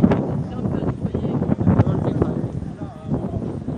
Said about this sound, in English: It's windy, yeah. Is it windy? Do you hear that?